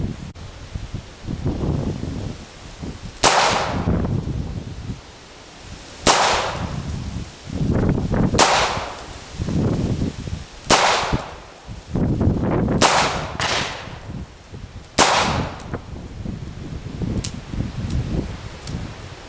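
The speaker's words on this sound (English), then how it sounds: "I am going to shoot it double action, not cocking it" Smith and Wesson Model 12 revolver fired double action outdoors, sharp loud cracks spaced a couple of seconds apart, about seven shots, each with a short echo and wind-like rustle between them.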